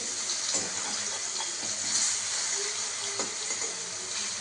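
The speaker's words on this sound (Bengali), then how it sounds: "এবার আমার ভাজা হচ্ছে কড়াইয়ে।" Pieces frying in a wok with a little turmeric, a continuous hissing sizzle heard up close with a few faint scraping taps, no talking.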